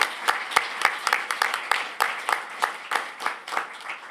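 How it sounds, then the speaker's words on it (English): A modest audience claps at a digital technologies event, with distinct individual claps in an uneven, fairly close rhythm rather than a dense roar. "So a round of applause for everybody."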